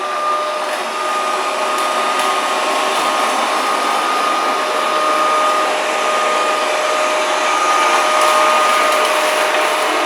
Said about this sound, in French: Donc là je vais relancer l'aspirateur, il a du boulot. Et cette fois-ci avec la brosse rotative en dessous.